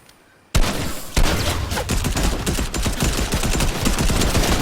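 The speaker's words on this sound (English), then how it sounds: "It's the Tony Stark gun." Rapid gunfire from a powerful weapon in a video game crackles in a dense, loud burst of overlapping shots that starts abruptly and continues without a break.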